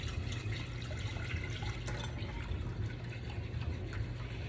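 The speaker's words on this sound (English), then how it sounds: "now I'm just gonna whisk and pour this in" Simmered sauce being whisked and poured while making a turkey dinner, a steady wet liquid wash of pouring and stirring that continues evenly throughout at close range, with no talking.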